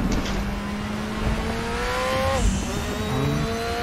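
A race car engine in the RaceRoom sim racing game revs hard, its pitch climbing through the gears with a quick shift dip near the middle, loud and continuous with no voices.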